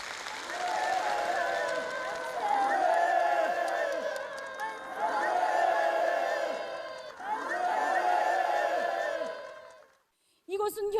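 Enthusiastic crowd applause at a ceremony handing over housing permits in a rural North Korean village, sustained and dense in three long swells, then a sudden cutoff.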